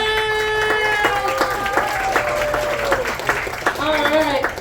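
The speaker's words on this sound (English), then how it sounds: "Give a round of applause, George Washington!" An audience claps steadily in sustained applause at a December play about the American Revolution, while a speaker talks over the clapping and a tonal sound rings through it.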